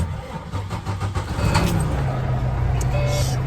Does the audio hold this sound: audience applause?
no